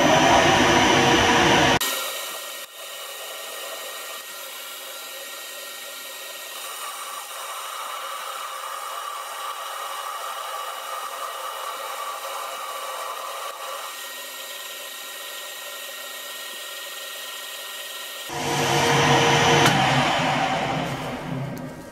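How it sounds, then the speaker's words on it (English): A lathe machines a bearing end cover for a housing, giving a long, steady whirring hum of turning and cutting, with louder, rougher machining noise at the start and end and no speech. "this is the last bearing end cover that we need to machine out for the housing"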